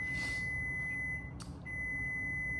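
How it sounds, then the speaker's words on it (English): A kitchen timer gives off a steady, thin electronic beep that runs almost unbroken for under three seconds, with one short break partway through, fairly close and alone with no voices. "Sorry, my timer's going off."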